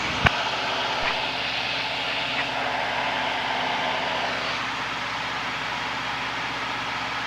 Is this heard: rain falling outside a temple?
no